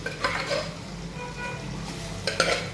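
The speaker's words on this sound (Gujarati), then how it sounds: "દહીં જો સરસ મજાનું હવે ચડી ગયું છે એટલે આપણે મગ છે ને એમાં નાખી દઈએ અને મિક્સ કરી દઈએ" Mung beans are stirred into cooked yogurt in a pot, with soft wet scraping and clinking of a spoon against the vessel, a couple of sharper knocks near the end, close and moderately loud.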